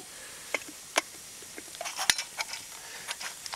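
A pine-needle infusion simmers in a pot at an outdoor bushcraft bivouac in mountain pasture. Faint, scattered pops and small clicks rise from the liquid at an irregular pace.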